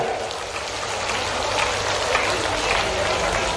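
A dense, steady crowd of spectators claps loudly at a public event for the Chief Minister, a continuous broad roar of applause filling the space.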